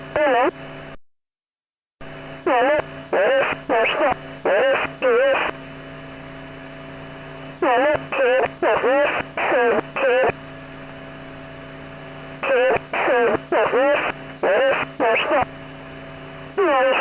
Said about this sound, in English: I had no idea a reversed number station recording could be so disturbing.